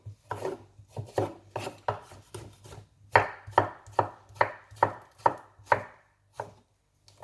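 A knife chops a salad topping on a board in quick, close, crisp strokes, about a dozen evenly spaced cuts followed by a few slower final taps.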